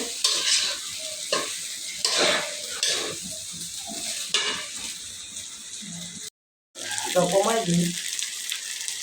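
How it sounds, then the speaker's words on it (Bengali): Egg chowmein noodles stirred in a hot frying pan, with repeated scraping strokes over a steady loud sizzle, a brief break, then further clattering stirring up close. "এই যে আমরা এখন নুডলসটা নাড়তেছি।"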